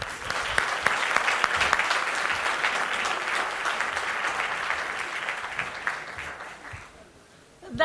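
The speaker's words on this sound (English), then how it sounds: "2 thumbs up and a round of applause for everybody here tonight" Audience applause at a film treaty signing between Toronto and Film City fills the room, steady and dense for about seven seconds before thinning out, with a few voices mixed in.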